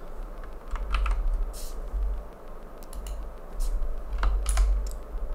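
Keys click on a computer keyboard during spreadsheet work, a scattered series of light taps and presses over a low background hum.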